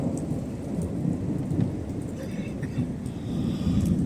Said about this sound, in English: Thunderstorm for another couple hours.